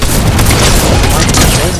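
A grenade explodes in the Fortnite video game: a loud, sustained, rumbling boom fills the whole short stretch with dense, crackling low-end energy.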